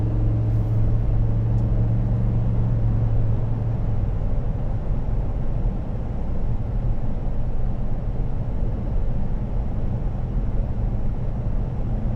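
A 2019 Chevrolet Suburban RST cruising on a highway, with a steady, loud low road and engine rumble and wind roar filling the cabin throughout, no talking.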